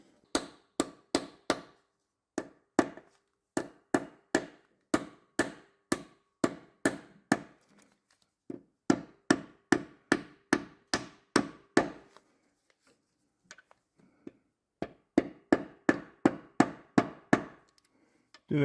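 A hammer drives a socket against a rear crankshaft oil seal on a Mazda MX-5 NC during a clutch change, producing close, sharp metallic taps in quick rhythmic runs broken by short pauses.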